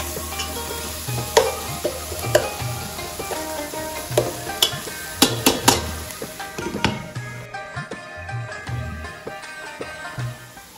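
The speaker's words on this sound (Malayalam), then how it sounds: "സവാള ഒന്നും കൂടി ഒന്ന് ഇളക്കി കൊടുക്കുന്നുണ്ട്" Onions frying in a pan crackle and sizzle steadily while a spoon stirs them, producing repeated sharp scrapes and clanks, with the sizzle easing toward the end; no voices.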